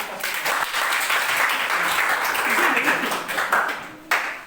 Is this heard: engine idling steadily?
no